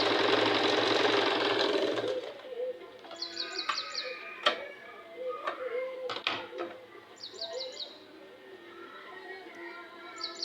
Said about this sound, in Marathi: अशा पद्धतीने एक शिलाई मारून घेत आहे